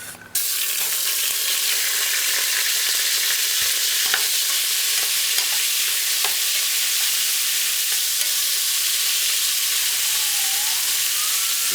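Beef frying in hot oil in a pressure cooker pot on a high flame, cooking Jamaican stew peas; a steady, loud sizzle and hiss carries on without a break, with a few faint stirring knocks and scrapes.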